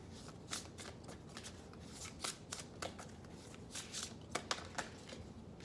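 Oracle cards being shuffled by hand produce quick, soft papery riffles and flicks in uneven bursts, close and fairly quiet, with no speech.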